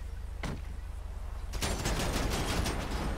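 Gunshots in a video game: one sharp shot followed after a pause by a dense, loud burst of rapid fire, fairly close.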